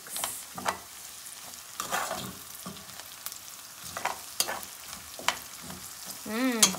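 Garlic sizzling in a pot while a spoon stirs it, with soft scraping strokes and small bursts of frying spread across the stretch and a brief sharper clink near the end; no one speaks.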